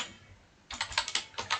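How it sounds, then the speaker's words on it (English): Typing on a computer keyboard to enter code in a notepad: quiet at first, then a close burst of quick, uneven key clicks with no voice. "I am typing"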